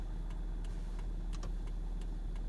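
Hazard lights ticking inside a 14-year-old Suzuki Swift, a faint, steady series of light clicks at a regular pace over a constant low cabin and engine hum, with no voices.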